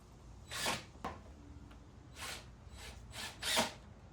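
Power drill driving pocket-hole screws into a wooden ladder step for a loft in an off-grid cabin, heard as four or five separate short whirring bursts with quiet gaps between them, at moderate distance and without talk.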